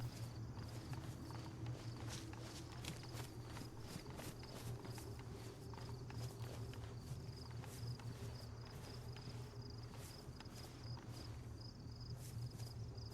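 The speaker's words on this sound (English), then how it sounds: "footsteps are just way too loud" Footsteps in the DayZ survival game, a steady run of close clip-clop steps over a constant low hum and faint insect-like chirping, with no talking.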